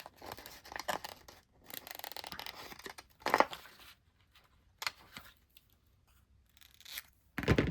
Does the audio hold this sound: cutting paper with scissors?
yes